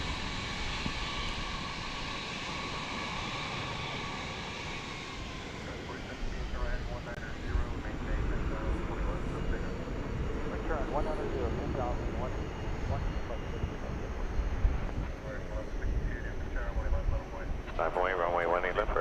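Jet airliners at DFW Airport at night, including an American Airlines 777-200 arriving on Runway 18 Left, roar with a steady engine rumble that swells louder partway through, while someone talks over it.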